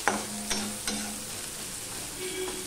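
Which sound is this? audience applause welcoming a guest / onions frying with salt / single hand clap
onions frying with salt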